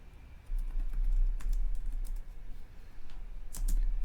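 Someone types on a computer keyboard in a short run of soft, quick key clicks with a few louder taps, close and quiet, with no talk.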